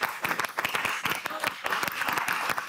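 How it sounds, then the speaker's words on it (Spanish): A studio audience applauds on the Peruvian TV cooking competition El Gran Chef Famosos, loud and close, with rapid overlapping claps that stay steady throughout. "Fuerte aplauso."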